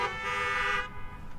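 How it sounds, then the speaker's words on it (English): A car horn at a drive-in theater blares in one steady, loud honk for just under a second, then cuts off, leaving low background noise. "why don't you give me a honk?"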